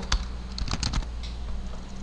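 Typing on a computer keyboard while writing C# code, a quick cluster of clicky keystrokes near the start followed by a few sparser taps, close and clear with no talking.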